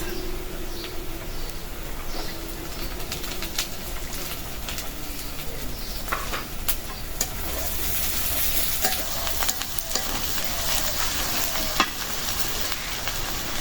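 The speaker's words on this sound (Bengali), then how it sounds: "পেঁয়াজ রসুনটা ভাজা হয়ে গেছে এখন দিয়ে দেবো কাঁচামরিচ" Chopped onion, garlic and green chilies fry in oil with a steady, close broadband sizzle that runs throughout, while faint bird cooing drifts in the background.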